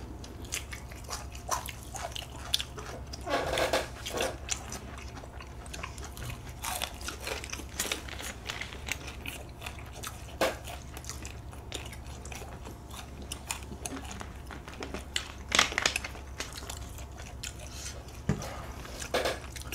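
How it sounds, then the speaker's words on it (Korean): Crisp, close crunching of a crunchy snack being chewed, repeated bites in an irregular rhythm against a low steady hum, with no talking. "아 이거 진짜 바삭바삭하다 진짜"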